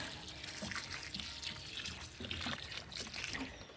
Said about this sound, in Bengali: ওই হিউমিক অ্যাসিডের জল দিয়ে দিচ্ছি, যাতে শিকড়গুলোর ভালো থাকে